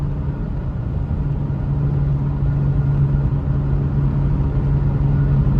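Low, steady rumble of a V6 car engine under way, a continuous droning hum with a constant low tone holding throughout, close and fairly loud with no talk.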